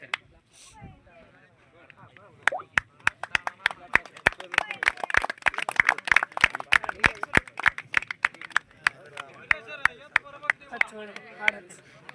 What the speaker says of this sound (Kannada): ಜೋರಾದ ಚಪ್ಪಾಳೆ ಮೂಲಕ ಅವರಿಗೆ